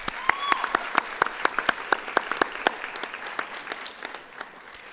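Nursing students applaud their family members at a pinning ceremony, with a crowd's crisp individual claps layered into steady applause that gradually thins out over a few seconds.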